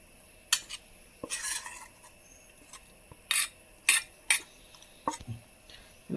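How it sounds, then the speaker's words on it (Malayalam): A spoon stirs a cornflour and liquid mixture in a metal bowl or pot, making a series of close, bright clinks and scraping swirls. The bursts come in irregular strokes separated by brief pauses. "അപ്പോൾ ഒന്ന് കലക്കിയെടുക്കട്ടെ."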